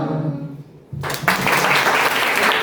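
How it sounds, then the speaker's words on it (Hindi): Applause erupts at an institute's annual fest after a soft sung passage ends, swelling quickly into loud, dense clapping from a large crowd that carries on steadily. "जोरदार तालियां किसकी मैम के लिए।"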